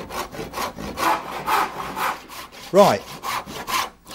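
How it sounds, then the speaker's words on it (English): Hand saw cutting wooden tenons held in a vise, a steady back-and-forth rasp of regular strokes, close and fairly loud, with a brief spoken word partway through. "Let me just start the saw first."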